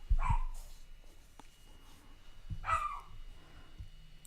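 A dog gives two short barks or yips about two seconds apart, fairly close but muted, with quiet room tone between them and no talk.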